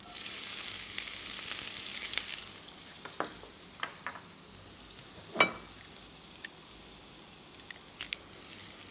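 Onions sizzling in a frying pan with ghee or oil left over from cooking kofta, a steady soft frying hiss that fades after a couple of seconds, with a few sharp clinks and scrapes of stirring.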